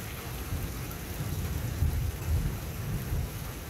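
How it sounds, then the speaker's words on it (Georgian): A rainstorm gives a steady hiss of falling rain, and low rolling thunder rumbles swell in the middle of the clip, with no voices. "კიდევ ქუხს."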